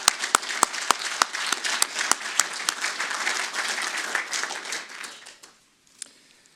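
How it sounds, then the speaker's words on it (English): Audience applause for event supporters at a healthcare engineering awards ceremony, a dense burst of many hands clapping with sharp individual claps at the start, sustained for about five seconds before fading out, with one lone clap near the end. "May I ask you to give a loud round of applause to our supporters."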